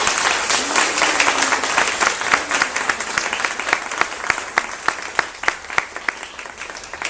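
Audience applause at a forum panel, a sustained even patter of many hands that thins out toward the end, with a few sharper individual claps standing out and some faint voices underneath.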